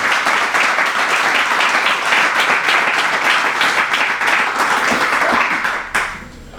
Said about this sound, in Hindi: आइए खुदा के लिए जोरदार ताली